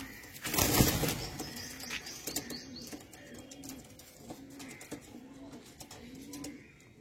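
Pigeons, including a young female Kalshira, are released: a loud burst of wing flapping comes first, then repeated soft low coos follow at a steady pace.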